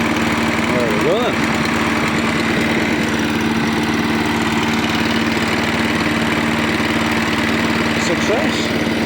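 The 196cc petrol engine of a Hyundai HYM510SPE lawnmower, just electric-started after a repair, runs with a loud, steady droning hum close by, with brief bits of background talk.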